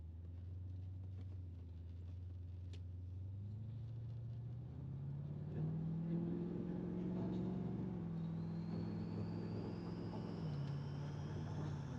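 A 1984 Chevrolet Corvette with a Magnaflow exhaust accelerating on the road, its engine tone climbing steadily through the gears as a low, moderately loud rumble heard from inside the car.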